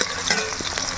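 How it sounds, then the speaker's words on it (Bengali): Capsicum pieces frying with a pinch of salt in a pan, a loud, continuous crackling sizzle with light stirring scrapes, close and with no voices. "প্রথমেই ভেজে নেব ক্যাপসিকাম গুলো।"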